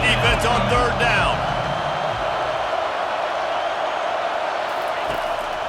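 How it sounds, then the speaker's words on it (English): A college football crowd in the Hurricanes vs. Wolfpack game roars steadily behind the defense on third down, a broad sustained wash of noise after a commentator speaks briefly at the start. "Decibels rising as the crowd gets behind this defense on 3rd down."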